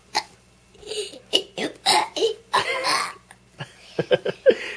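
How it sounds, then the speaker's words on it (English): A child burps on purpose again and again, a series of short, gulping throat bursts heard close up. A few quick reactions from others sit between them. "You can just make yourself burp?"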